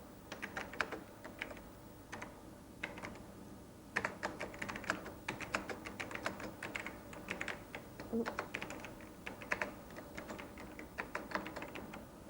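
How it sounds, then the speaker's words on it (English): An email message is typed on a computer keyboard in a quiet room, with close, brisk, uneven key clicks that come in bursts throughout. "Type the message in the main body of the text."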